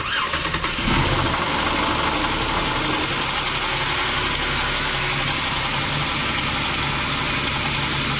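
A Jeep engine idles steadily with the hood open, a close, loud, continuous rumble and whir from start to finish with no talk over it.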